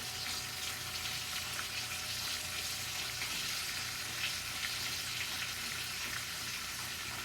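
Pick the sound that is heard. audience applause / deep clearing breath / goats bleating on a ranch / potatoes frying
potatoes frying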